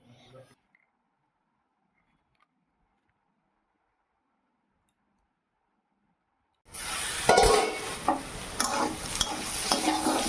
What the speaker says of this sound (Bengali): এই যে দেখো অনেকটা হয়ে গেছে কাঁকরোল ভাজা